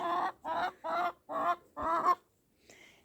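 Backyard hens clucking close by in a run of five loud, evenly spaced calls, followed by a fainter call after a short pause.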